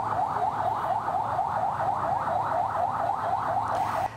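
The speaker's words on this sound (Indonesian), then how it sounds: "Dalam video ini terlihat mobil pemadam kebakaran tiba di lokasi." A fire truck siren yelps in a fast, steady, repeating rise-and-fall pattern, moderately loud and continuous throughout, with no talking.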